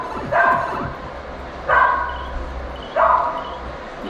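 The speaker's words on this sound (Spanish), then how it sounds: "¡Cállate a su perro!" A dog barks three times at even intervals of just over a second, each bark fairly close and loud against a low background hum, during play of the Super Mario Bros secret world level Senda Superestrella 2.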